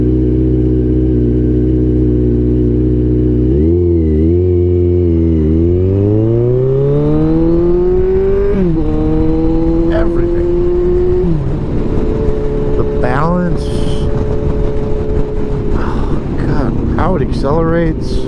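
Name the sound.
Kawasaki Ninja 1000 motorcycle accelerating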